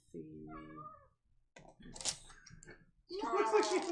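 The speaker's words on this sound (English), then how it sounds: "Get my cat yodel." A cat yowls in wavering, yodel-like meows, one drawn-out cry at the start and a louder, throatier one at the end, with people chatting and faint clicks between them.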